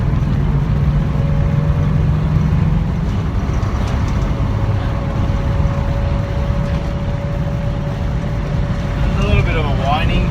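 A Subaru Kombi engine drones while driving in traffic, with a thin steady whine riding over a loud rumbling road and engine noise throughout.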